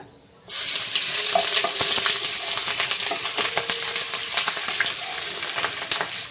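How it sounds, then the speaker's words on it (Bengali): Whole spices and garlic paste hit hot oil for a chicken curry, bursting into a loud, steady sizzle after a quiet start, with crackling pops scattered throughout and no voices. "ফোড়ন দেওয়ার পরে এখন দিয়ে দেব রসুন বাটা"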